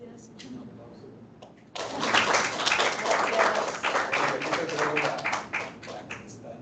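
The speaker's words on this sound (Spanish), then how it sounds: "Un aplauso." After a voice, an audience at a university mathematics lecture breaks into dense, steady clapping that starts abruptly and carries on at moderate volume to the end.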